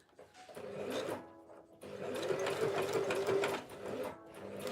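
A close sewing machine stitches sequin mermaid tail fabric in a steady whirring run, pausing briefly once before continuing, with no talk over it.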